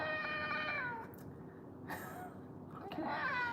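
A pet cat meowing up close, with a long drawn-out meow, a short cry in the middle and another meow at the end, each with a quiet gap between.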